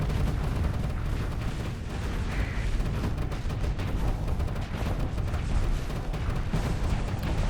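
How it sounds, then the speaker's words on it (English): Missiles firing and exploding in the space combat game Starsector, a dense, continuous barrage of booms and blasts rumbling loudly without pause, with no voices. "That's a lot of missiles."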